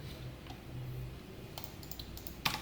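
Code is typed on a computer keyboard, heard as a few faint, scattered key clicks and taps over a quiet room hum, with no talking.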